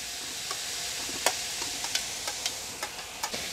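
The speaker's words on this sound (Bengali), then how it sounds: "এখন আমি এর মধ্যে দিয়ে দিচ্ছি পেঁয়াজ কুচি এবং মরিচ কুচি" Chopped onion and chili frying in a pan with a steady faint sizzle, broken by scattered light clicks and scrapes from stirring, at a moderate distance.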